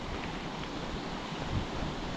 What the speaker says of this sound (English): here's another section where water comes through underneath the road